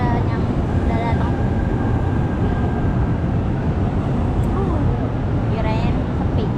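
A KRL commuter train bound for Bogor pulls into a station with a continuous loud rumble and metallic screech, sustained throughout, while people talk nearby on the platform.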